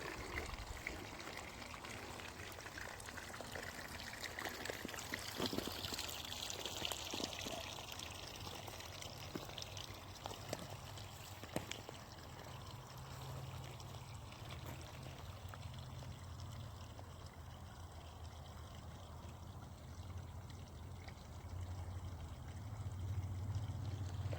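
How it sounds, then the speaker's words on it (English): Water pours and trickles down furrowed rows in a garden, a steady continuous flow heard close at low level, with faint scattered splashes and no voices. "As you can see, the water's going down that one and the water's going down that one."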